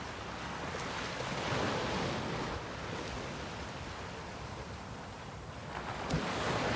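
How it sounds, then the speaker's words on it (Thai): Steady roar of ocean surf washing ashore on an Australian beach, a continuous broadband rush with gentle swells in loudness and some wind buffeting the microphone. "โอ้โหเสียงคลื่น"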